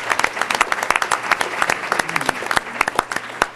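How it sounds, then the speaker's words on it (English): Applause at a school board meeting: a small room's worth of people clap in distinct, separate claps. The sound is moderately loud and uneven, with scattered individual hand slaps, and faint murmuring voices sit underneath. "Let's give her a hand."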